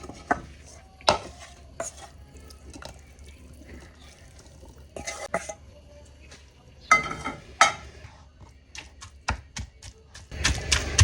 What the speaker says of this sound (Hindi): मैंने सोचा मैं चम्मच से ही इसको मज़ीद और क्रश कर लूँ।